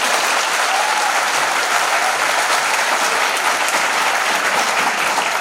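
Steady, dense applause from an audience at a national seminar held at a law college in Chhatarpur, sustained and fairly loud throughout with no break.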